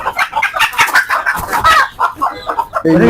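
Country chickens and roosters cluck close by in quick, overlapping bursts, with a louder call breaking in at the very end.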